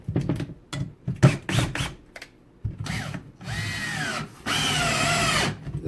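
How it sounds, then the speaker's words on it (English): A 12V cordless screwdriver drives fasteners home on a 2 amp-hour battery. Several quick whirring bursts give way to two longer, louder runs of the motor up close. "no problem whatsoever driving these fasteners home."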